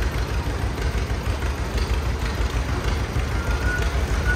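A 1947 John Deere D tractor engine idles at a threshermen's reunion parade in Manitoba, a steady low rumble with a faint knocking pulse running continuously, fairly close, amid outdoor crowd ambience.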